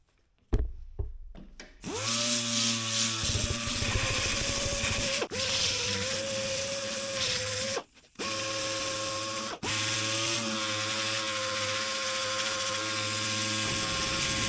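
Steady, loud mechanical grinding with a droning hum runs almost continuously, broken by a few brief pauses, as a power sander takes motorcycle paint down to bare metal.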